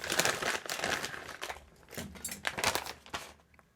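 Plastic bag from a Wooting 60HE keyboard box crinkling and rustling as hands open it, several close bursts of crackle with short pauses between them.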